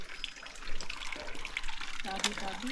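Water from a spring flowing and trickling nearby, a steady splashing stream of moderate loudness with faint voices in the background.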